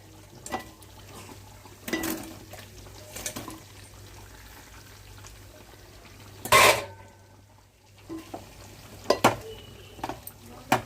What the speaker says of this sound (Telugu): స్టవ్ ఆఫ్ చేస్తాను కదండి, చికెన్ ఇందులో వేసేద్దాము.